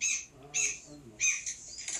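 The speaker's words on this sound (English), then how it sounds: "I believe the seagull just parked himself right outside my window" A seagull squawks in loud, harsh bursts just outside a window, repeating three or four times in quick succession with no talk over it.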